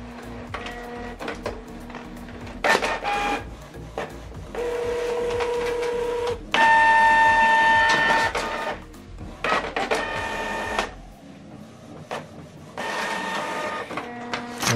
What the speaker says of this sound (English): So now this document is going to print double-sided.